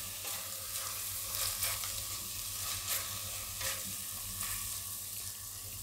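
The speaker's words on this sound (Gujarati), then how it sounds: "થોડીક વાર તેલમાં આ રીતે ફેરવીએ એટલે મસાલા બધા આપણા પાકી જાય એમ" Spices and cauliflower frying in oil on a low flame while being stirred, a steady soft sizzle with scraping stir strokes recurring every second or so, close and fairly quiet, no voices.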